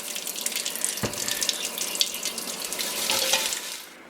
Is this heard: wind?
no